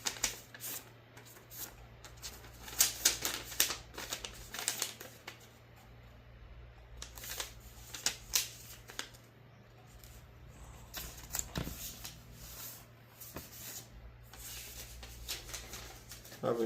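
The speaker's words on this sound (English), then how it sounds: "We're gonna fold it edge to edge and point to point." Origami paper being folded edge to edge and point to point, giving soft crisp rustles and sharp creasing snaps in irregular bursts, close and fairly quiet, with a steady low hum underneath.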